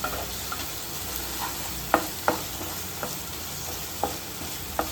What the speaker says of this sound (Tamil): ரெண்டு தக்காளி போட்டுக்கலாம் நல்லா வதக்கிக்கோங்க தக்காளியும் நல்லா வதக்கட்டும்